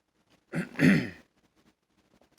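A single close throat clearing, a short rough rasp lasting under a second, then near silence.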